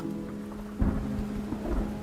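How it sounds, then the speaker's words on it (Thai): Heavy rain pours steadily in an audio drama scene, with low rumbling bursts like distant thunder under the constant hiss, and no voices present. "ไอ้นุ่มฝนตกแบบนี้เครื่องจะบินได้เหรอ"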